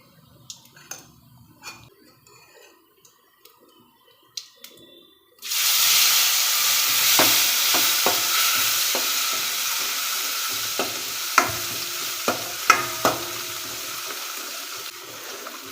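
Chutney masala with cumin and curry leaves hits hot oil in a pan and erupts into a loud, steady sizzle, with occasional stirring clinks and pops over the continuous frying hiss.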